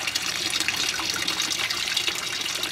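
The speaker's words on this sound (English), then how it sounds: "I need to put some water in here." Water pours steadily into a fish tank, a continuous broadband splashing rush that stays even and fairly close throughout, with no talking.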